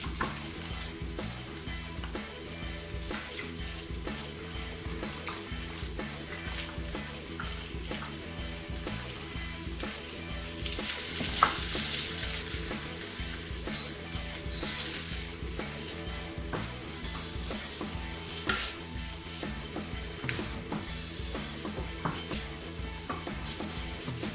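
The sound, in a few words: salmon frying and being stirred in a pan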